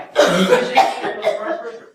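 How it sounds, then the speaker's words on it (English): A woman coughs several times in quick succession, close and loud, with rough throaty bursts over about two seconds. "She's coughing up."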